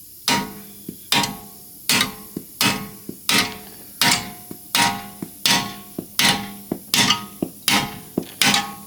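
A hammer strikes a car's metal ball joint about a dozen times in a steady rhythm, each blow a loud, sharp clang close by with a short ringing decay, in a garage.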